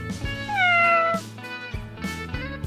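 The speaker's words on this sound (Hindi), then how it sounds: "बिल्ली" A cat gives a clear, close meow with a falling pitch, followed by softer trailing cries over a steady musical background.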